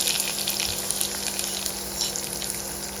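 Nenam, a Manipuri dish, frying in hot oil with a steady close sizzle that holds level and unbroken throughout, alone with no voices.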